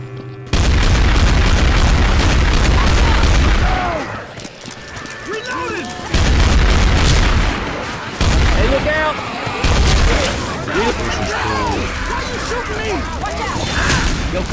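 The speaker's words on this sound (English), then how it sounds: "Yo, coach, stop shooting me." Gunshots in Left 4 Dead 2 go off as loud booming reports over a dense game din, with several voices talking excitedly throughout and the firing rising and falling in bursts.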